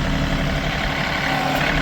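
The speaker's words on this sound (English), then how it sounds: "and then you drive the tractor backwards" A tractor with a front end loader, blade tilted down near the ground, drives backwards to drag and spread earth, its engine a steady, close, continuous rumble with no talk.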